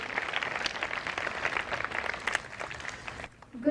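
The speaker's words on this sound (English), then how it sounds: "A big round of applause for all the participants of the band group and all our NCC cadets" Applause for a school band group and NCC cadets after a marching contingent at a Republic Day celebration, a steady crowd clapping that carries on for several seconds before fading out at the end.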